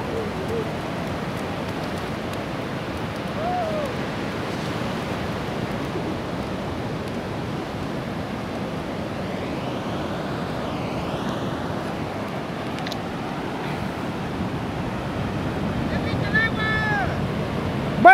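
Ocean waves roll onto a beach at high tide in a broad, steady roar mixed with wind buffeting the microphone. A voice is faintly audible late in the clip.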